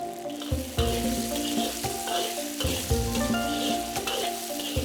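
Slices of pork blood stir-fry over high heat in a wok, a steady loud sizzle broken by repeated scraping stirs from a spatula, with no talking.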